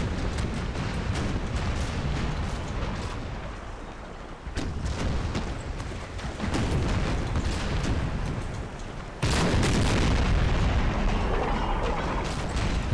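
Warship cannons fire broadsides in Empire: Total War, a deep rumbling barrage of booms and crackling blasts that stays loud throughout and surges sharply near the end.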